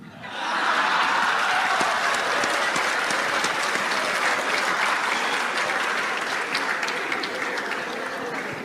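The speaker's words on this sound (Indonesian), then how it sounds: "Ya, udah ada tepuk tangan," Audience at a talk breaking into applause, dense, even clapping from many hands that starts abruptly and holds steady, loud and close, with no voices over it.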